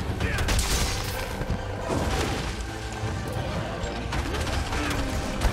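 Bazelgeuse bombs bursting in the video game Monster Hunter Rise, with dense booms, crashes and mechanical clatter throughout the fight, mixed with game effects under occasional talk.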